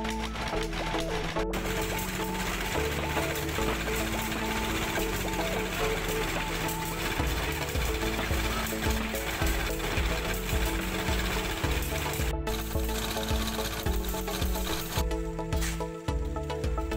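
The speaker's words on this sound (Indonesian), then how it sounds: "menambahkan satu unit mesin molen yang akan digunakan untuk mencampur material batu, pasir, dan semen" A concrete mixer machine churns stone, sand and cement for a concrete road in Kuala Mandor B village, giving a steady, continuous mechanical grinding and rattling that runs loud throughout.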